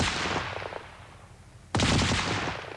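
A Vickers medium machine gun firing, two loud close bursts of rapid rattling shots, the second starting abruptly after a short pause and decaying into echo.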